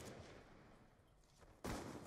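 A single sharp gunshot from a first-person shooter video game, a short loud burst near the end after quiet low game ambience.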